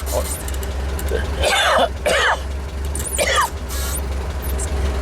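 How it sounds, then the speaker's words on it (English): A few rough coughs and throat clearing, close by, over a low steady engine hum. "Damn cough."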